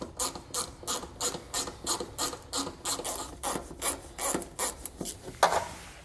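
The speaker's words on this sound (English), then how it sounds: "We need to go ahead and remove that using a 7/32 inch socket." A ratchet fitted with a 7/32 inch socket backs a screw out of the body of a 2012 Ford Edge, giving close, steady rhythmic clicking strokes with brief pauses between them, alone without talk.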